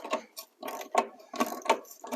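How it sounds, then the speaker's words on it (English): A boxed end wrench working a nut on Triumph TR6 front brakes, giving a short run of ratcheting metallic clicks and scrapes in quick bursts, close and moderately loud, with no voices. "you can get a full bite on it with a boxed end wrench, and then it can come loose"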